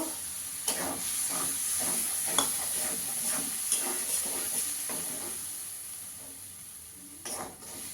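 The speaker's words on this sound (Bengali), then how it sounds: "দইটা দিয়েও ভালো করে একটু কষিয়ে নেব" Beaten sour curd hisses and sizzles as it is fried into the masala in a pan, with a steady rhythm of scraping stirring strokes over a constant close frying hiss and no voices.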